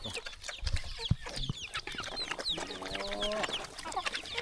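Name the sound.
chickens clucking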